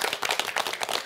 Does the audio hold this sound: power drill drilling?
no